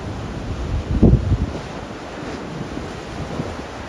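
Wind buffets the microphone on a windswept coast while sea waves wash in steadily, with a stronger gust and surge about a second in.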